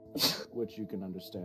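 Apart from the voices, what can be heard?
sneeze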